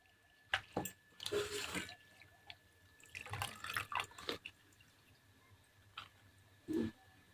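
Dill and spinach greens being rinsed in water, with irregular drips, splashes and sloshing bursts at close range, fairly quiet, with pauses between handling sounds and no talking.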